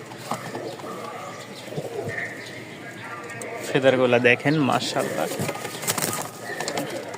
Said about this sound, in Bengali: তো এখানে 2 পেয়ার কবুতর আছে।